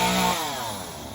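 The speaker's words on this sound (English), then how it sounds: "The noise you hear in the background is the apple tree being trimmed." Chainsaw trimming an apple tree, a continuous buzzing engine whine that drifts in pitch as the cut progresses, steady and moderately loud across a short stretch with no voices.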